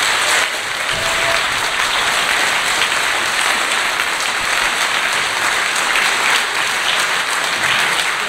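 Audience at a fracking talk in the Milton Rooms, Malton, North Yorkshire, giving a big round of applause, a loud dense sustained clapping that holds steady throughout.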